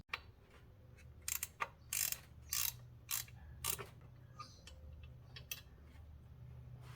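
Ratchet working on a T30 Torx screw in the engine bay of a supercharged 2014 Audi Q5 3.0T Quattro: a few short bursts of clicking spread over several seconds, close and fairly quiet over a low steady hum, no talk.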